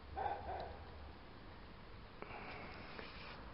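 A dog barks faintly and far off, with a couple of short yaps in the first moment above a city at night, followed by quiet low hum and hiss.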